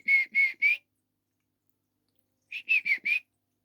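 A person whistling to a pet budgie: a quick run of three short, clear whistled notes, a pause, then four more, crisp and isolated against silence.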